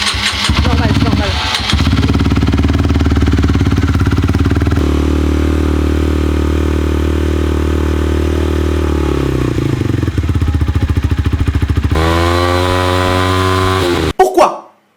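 A motorcycle engine cranks and sputters, then catches and runs at a loud, steady idle before revving up sharply near the end and cutting off abruptly.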